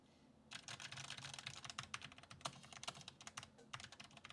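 Rapid, steady clacking of keys on a mechanical keyboard with red switches, close and fairly loud, after a brief quiet start, with no voices.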